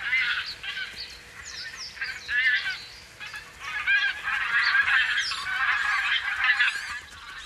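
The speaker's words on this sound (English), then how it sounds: "On land, the geese are extremely watchful." A flock of geese honking on land, many overlapping calls close by and loud, continuous throughout with no talking.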